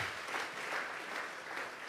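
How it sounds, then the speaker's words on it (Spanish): A church congregation claps together, a dense and even wash of applause lasting a couple of seconds, heard from a little distance without any voices over it. "Vamos a regalarle ofrenda de palmas al Dios de la gloria"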